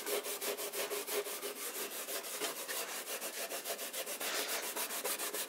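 Double O steel wool rubs shellac off a wooden antique sewing machine cabinet in quick, even back-and-forth strokes, a steady rhythmic scratchy swish heard up close and alone.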